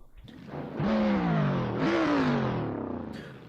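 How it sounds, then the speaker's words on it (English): A BMW drift car engine in a video game revs hard in two rising surges, loud and close, its whining tone climbing, dipping, then climbing again. "Really good sound from that BMW."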